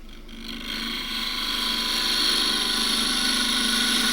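A spindle gouge cuts into wood spinning on a lathe, giving a continuous steady whirring hiss that slowly builds in loudness, alone without talk.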